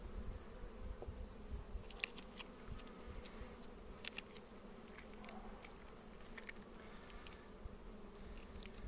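Honey bees buzz steadily at an opened hive in a buckwheat setting, a dense, continuous drone close to the microphone with scattered sharper whines of individual bees passing by, and no talking.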